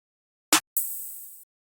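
A sharp electronic clap followed by a sizzling open hi-hat that rings out briefly, crisp and close, with silence around them.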